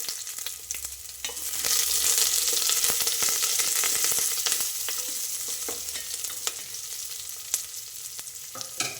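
Onion and curry leaves crackle and sizzle in hot oil, the frying swelling louder after a moment, with scattered sharp pops and a few utensil taps.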